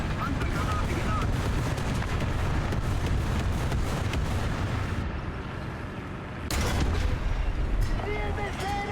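Panzer 4 H tank cannon firing in War Thunder, booming shots over constant battle rumble, with one sharp blast near the end; a voice talks now and then.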